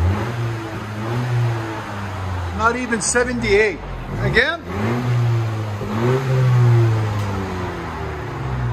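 A 2019 Honda Civic Si turbo with its stock exhaust revs up several times, the engine rising and falling in pitch with a fairly quiet, smooth note, while a person speaks briefly over it.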